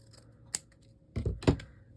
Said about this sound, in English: Let's cut it here.